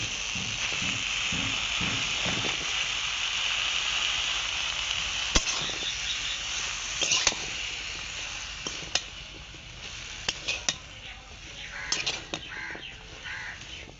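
Fresh young Malabar spinach dropped onto lightly fried shrimp in a hot pan, giving a steady broad hiss of frying oil throughout with scattered pops and crackles, no talking.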